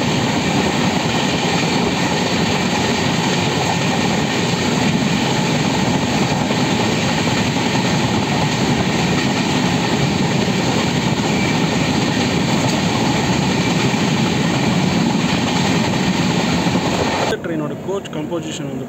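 A Madurai–Kacheguda special express train makes a loud, steady broadband roar and rumble that stays constant for about seventeen seconds, then cuts off abruptly into quieter sound.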